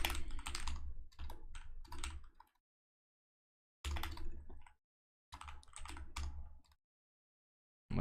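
Bursts of rapid keystrokes on a computer keyboard while scripting code, three clustered runs of clicking separated by pauses, close and fairly loud with no talking.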